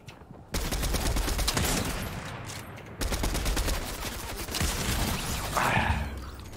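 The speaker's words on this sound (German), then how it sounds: "Der schießt schon auf mich." Rapid automatic gunfire in the Fortnite Chapter 3 battle royale, several dense bursts of shots in quick succession with brief gaps, loud and close.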